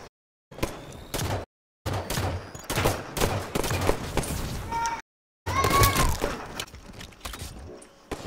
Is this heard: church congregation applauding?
no